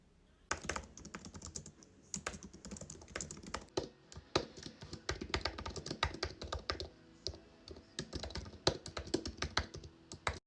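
Fast typing on a computer keyboard during a book-writing session, with quick, irregular clusters of soft key taps at close range, brief pauses between bursts, and no voices.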